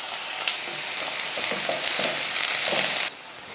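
Onion, mustard seeds, urad dal and curry leaves sizzle steadily in hot oil in a kadai, a bright close frying hiss with a few soft stirring knocks, cutting off abruptly near the end.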